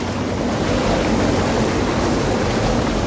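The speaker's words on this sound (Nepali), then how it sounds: "एकदम खतरा खोला छ होइन" Fast, dangerous mountain river rushing down from above, a dense continuous roar of churning water, loud and close with no break.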